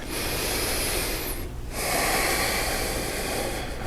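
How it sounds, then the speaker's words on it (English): Deep yoga breaths, steady close inhales and exhales with a brief pause near the middle, drawn slowly and evenly through a quiet room. "Some nice deep breaths."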